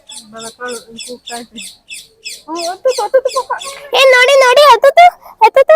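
Birds chirp and tweet in rapid repeated bursts at Mysore Zoo, fairly close and clear, with a person speaking over the later calls.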